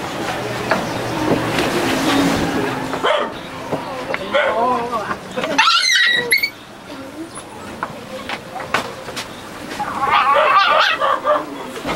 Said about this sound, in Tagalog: Yun yung aso na.